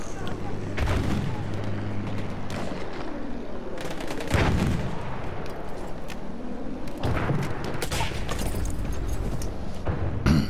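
Video game gunfire in a multiplayer shooter, a steady dense barrage of shots and booms with heavier blasts near the middle and end, loud and continuous under game noise.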